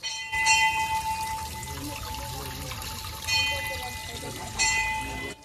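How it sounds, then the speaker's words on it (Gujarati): Spring water from a temple tank runs steadily through a narrow channel, a continuous close trickle and pour with a faint ringing tone and occasional bell-like accents. "આ તમે જે નાળી જોઈ શકો છો તેમાંથી આ પાણી આ નાળી દ્વારા અહીં આ આવી રહ્યું છે।"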